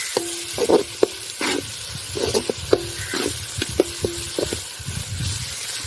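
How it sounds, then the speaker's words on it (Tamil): Chopped tomatoes sizzle in hot sesame oil for a village-style country chicken curry while a spoon scrapes and taps the pan in an irregular stirring rhythm. "தக்காளி நல்லா வதங்கட்டும்"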